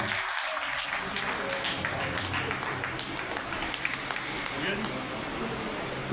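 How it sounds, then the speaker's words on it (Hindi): An audience at a Partition Horrors Remembrance Day event gives a loud round of applause, a continuous, even spread of many hands clapping for several seconds with no break. "एक बार जोरदार तालियां बजा दीजिए"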